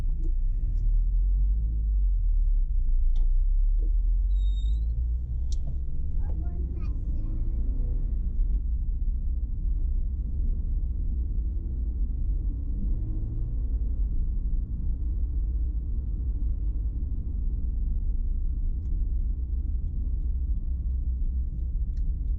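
A Subaru BRZ fitted with a Pro Speed Racing unequal length header idles unusually low, a deep, steady rumble close by with faint ticks and knocks over it.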